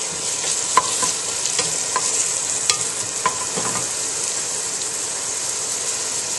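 Chopped onions sauté in a hot pan with a loud, steady sizzle that runs throughout, broken by a few sharp clicks as they are tossed and stirred. No one speaks.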